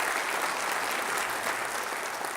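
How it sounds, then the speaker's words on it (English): Audience applause fills a mayor's development forum in Long Beach, a steady dense wash of many hands clapping at once, held at an even level without letting up. "So let's give Second PCH and the people involved a big round of applause."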